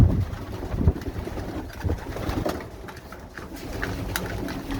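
A blue checker racing pigeon hen coos softly nearby, low throaty murmurs repeating over a few seconds against quiet background noise, with no one talking.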